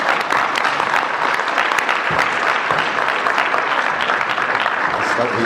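An audience at a Marvel Cosmic panel applauds comics creator Jim Starlin with loud, sustained clapping and scattered sharp individual claps, with some crowd voices mixed in beneath.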